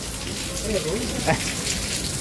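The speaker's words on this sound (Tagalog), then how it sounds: "Grabe ulan po mga kalingap" Heavy rain pours steadily in Hong Kong during a typhoon, a dense, constant hiss of drops close by, with a faint voice briefly murmuring underneath.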